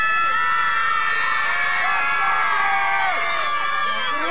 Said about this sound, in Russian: Хорошо кричите, нравится мне, голосите, молодцы.